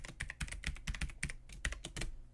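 Password typed on a computer keyboard, quick irregular run of light key clicks, close and fairly quiet, with no talking.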